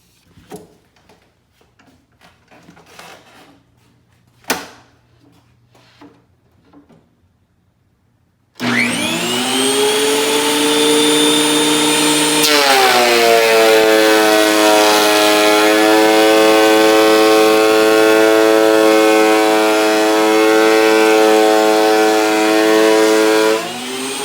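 A DeWalt 12.5 inch planer runs a board, starting abruptly and then holding a loud, steady, high-pitched whine with strong harmonics. The whine shifts pitch slightly partway through and continues unbroken to the end.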